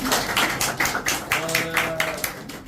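A small group claps in a steady, repeated rhythm, sharp bursts roughly three per second, with a sustained tonal hum and faint voices rising underneath partway through.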